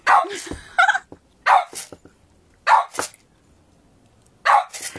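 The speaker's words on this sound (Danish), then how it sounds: "Så begynder han at gø." A dog barks in four sharp, separate bursts spaced about a second apart, close and loud, with quiet gaps between them.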